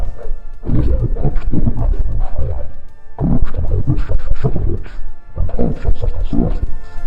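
A human voice has been pitched down by a factor of four to suggest a giant. The result is a deep, slurred, rumbling growl of drawn-out phrases, loud and close, with brief pauses between them.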